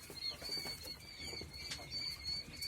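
Quails fill a breeding pen on a poultry farm with soft chirps, short calls and brief wing flutters. The sound is close and moderately loud, mixed with scattered rustling and no voices.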